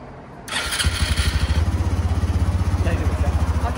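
A red Honda City 125 motorcycle starts up nearby after a short quiet moment, settling into a steady, loud, pulsing idle that carries on to the end.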